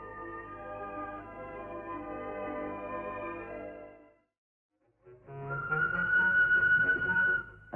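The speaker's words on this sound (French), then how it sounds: "Un coup de sifflet au loin." A 1965 French SNCF train whistle sounds in two sustained, tonal blasts separated by a short silence, with the second blast brighter and louder.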